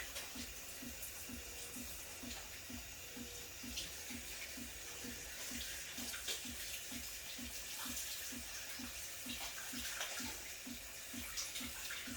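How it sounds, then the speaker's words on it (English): Tap water runs steadily into a sink during handwashing in a home kitchen, a constant hiss with a low rhythmic pulse underneath. "Let me give my hands a good wash."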